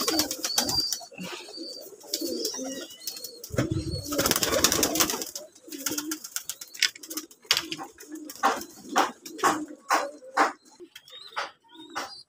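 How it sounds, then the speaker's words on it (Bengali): Pigeons scuffle in a loft, with a burst of flapping wings midway. Rhythmic low cooing follows from close by, pulsing repeatedly. "তো একটা কবুতর মারামারি করতেছে"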